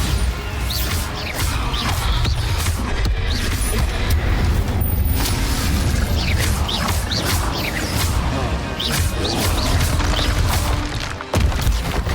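Bombarda spell explosions in the video game Hogwarts Legacy, repeated booming blasts and crashes amid continuous loud combat effects and whooshes.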